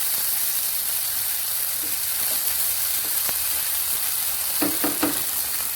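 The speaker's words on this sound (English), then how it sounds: "Working it around, be sure not to burn the garlic" Garlic fries in a pan for Filipino-style red beans, a soft continuous sizzle and hiss broken by scattered scraping taps as it is stirred, with no one talking.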